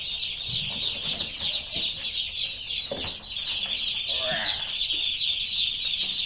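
Dense, high-pitched peeping from many day-old chicks in a brooder, continuous and fairly close, with light rustling underneath.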